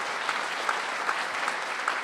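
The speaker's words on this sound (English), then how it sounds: "So a big round of applause for Mr. Stashik for doing that." Steady audience applause fills a high school spring band concert, a dense, even wash of many hands clapping with no voices over it.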